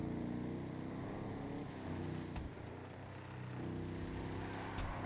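A Vapid Slamtruck drives in GTA Online with a low, steady engine drone and rumbling tone, shifting slightly in pitch as it cruises, with a few faint clicks on top.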